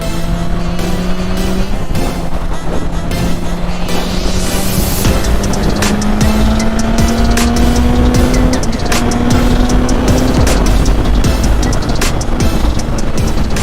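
A motorcycle cruising on the freeway gives a steady, loud engine drone under heavy wind roar, its pitch climbing slowly as it holds speed, with no talking.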